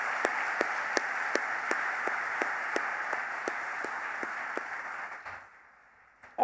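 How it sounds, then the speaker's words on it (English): Sustained applause from an audience for teachers at a school prize day: a dense, even wash of many hands with a regular rhythmic clap pulsing through it, fading out near the end. "Can we have a round of applause for all the teachers here this evening?"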